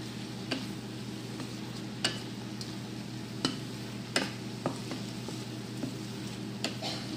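Pork sautéing with onion and garlic in a pan as soy sauce goes in, a quiet steady sizzle under sharp intermittent clicks of a utensil stirring against the pan, no speech.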